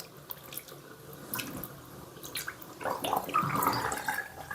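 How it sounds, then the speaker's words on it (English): Water gurgling down a pop-up drain in a bathroom sink, with intermittent splashes and drips early on and then a louder, bubbling rush of draining water in the last seconds, heard close up with no speech. "It drains really well. No problem draining."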